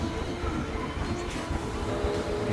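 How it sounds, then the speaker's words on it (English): A mine train roller coaster in the Planet Coaster video game rides along its track with a dense, steady clattering rumble of wheels and rails, loud and continuous throughout, with no voices. "Yeah, it is a mine train coaster."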